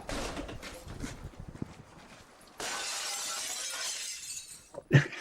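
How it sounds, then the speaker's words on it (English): Glass in a door being smashed and the door kicked: scattered knocks and rustling, then a sustained bright crash of breaking glass and a sharp loud impact near the end, no speech. "just smashing the glass on the door and kicking it"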